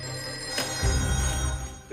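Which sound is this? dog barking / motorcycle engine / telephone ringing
telephone ringing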